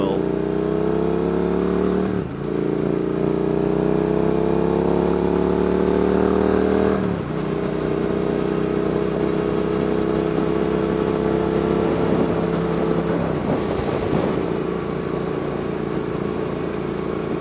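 Triumph motorcycle cruising in fifth gear at about 3,500 rpm on a chilly, calm ride through Epping Forest: a steady mid-pitched engine drone with brief dips at gear or throttle changes, heard close with a voice talking over it.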